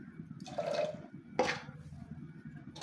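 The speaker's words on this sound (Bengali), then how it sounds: "পানি দিয়ে দেব।" Water is poured into a pressure cooker holding washed lentils, in two short, soft splashing bursts separated by a pause, fairly quiet and close.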